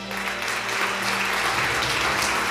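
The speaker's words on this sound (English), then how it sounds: "Please applaud for Benedikt Zoya, geodesy." Audience applause at the 2019 EGU award ceremony, steady clapping from a large hall crowd that holds at an even, loud level throughout.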